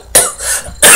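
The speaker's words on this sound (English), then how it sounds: "Sorry about the coughing." Two harsh, loud coughs close to the microphone, separated by a brief rough exhale, with no talking.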